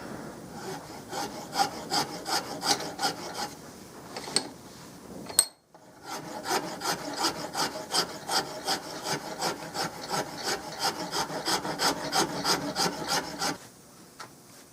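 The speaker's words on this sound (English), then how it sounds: "Seems a shame to tear into this thing with a rough file, but that has to come down." Coarse file rasping against a wooden Mauser rifle stock in steady, rhythmic strokes, close and loud, with one short pause near the middle before the rapid strokes resume.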